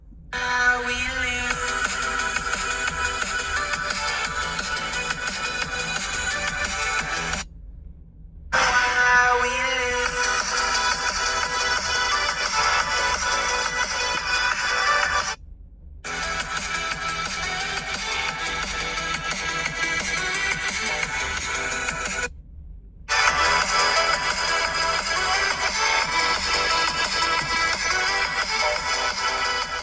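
Music playing through the small speakers of a Vivo X300 and an iPhone 17, loud and thin in tone, broken by three short silences as the playback switches between phones.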